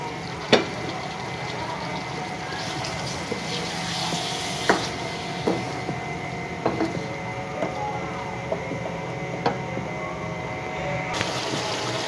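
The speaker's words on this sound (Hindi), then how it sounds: "ताकि इसको अच्छे से मैं भून सकूँ।" Steady sizzling and bubbling of masala frying in a pan for bhindi mutton gosht continues throughout, with occasional clicks and clatters of utensils, close and moderately loud.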